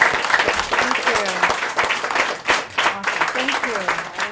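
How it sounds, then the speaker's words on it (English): A Montreal studio audience at a live talk show at the Montreal Arts Centre gives sustained, lively applause with distinct individual claps, while a voice talks and cheers over it. "Give her a big Montreal round of applause."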